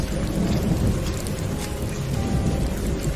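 A rain and thunder effect for a cartoon horror story gives a dense, low rumble under a steady wash of rainfall, loud and continuous throughout.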